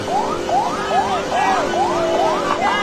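A loud emergency siren wails in rapid repeating up-and-down sweeps, close and continuous, with a steady engine hum underneath.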